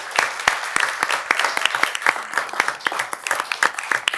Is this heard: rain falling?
no